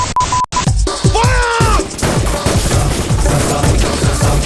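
Loud rapid gunfire crackles in dense bursts throughout a scene from the film Gadar 2, with a brief tonal beep and electronic sweep near the start.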